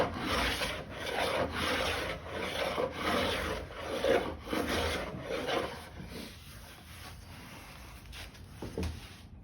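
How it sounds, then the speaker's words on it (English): A cabinet scraper drawn across a rough-cut oak floor board, over an inch thick, with beeswax remnants on the surface, making repeated rasping strokes up close, strong early and tapering toward the end. "Okay, these are cabinet scrapers."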